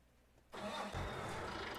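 In Farming Simulator, a truck's engine cranks after a quiet start, catches about half a second in and settles into a loud, steady idle.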